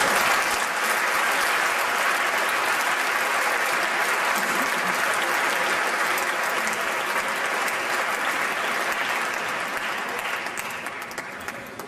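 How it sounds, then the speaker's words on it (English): A large audience at a THIMUN Model United Nations conference opening ceremony in 2011 applauds a delegate. Dense, loud, sustained clapping fills the hall for about twelve seconds and thins slightly toward the end. "An applause please for him."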